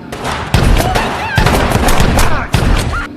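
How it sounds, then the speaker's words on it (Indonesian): Gunfire from a film scene: loud bursts and volleys of shots in a close exchange, several dense impacts layered over a busy action soundtrack with no talk. "James kemudian berbalik menembak Henry"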